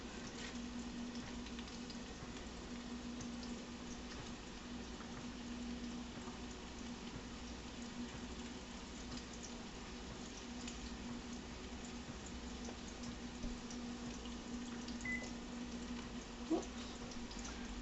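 Meatballs browning in a pan on a stovetop give a faint, steady sizzle and bubbling hiss that runs evenly throughout, with no voices.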